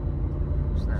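Supercharged Whipple Mustang engine turning about 3000 RPM, a dense, loud low rumble held steady for one second, with a faint rising whine near the end.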